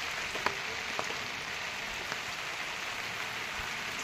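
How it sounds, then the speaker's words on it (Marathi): Steady rain falls outside a goat shed during the monsoon, a constant even hiss broken by a few sharper drips landing close by. "बाहेरून पाऊस, इथं चिखल, पाणी"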